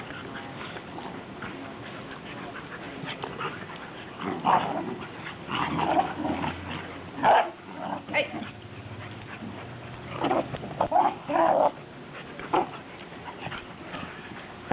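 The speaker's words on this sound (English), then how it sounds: "Dog fight." Puppies play-fighting and wrestling indoors, with scuffling, yips and growly bursts in uneven clusters, close and moderately loud, while a person speaks briefly.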